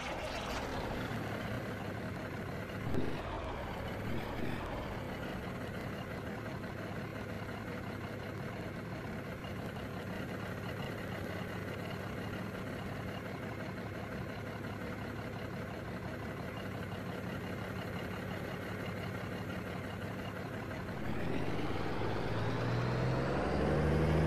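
Heavy International 9900i truck with an N14 Select Plus diesel in American Truck Simulator, a steady low rumbling drone running continuously, with a brief bump around three seconds and the engine swelling louder near the end; no talk.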